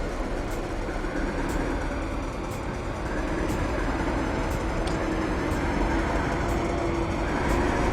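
A Class 73 locomotive's diesel engine runs in Train Simulator 2016 with a steady, loud rumbling drone, overlaid by faint regular high ticks roughly once a second and no voices.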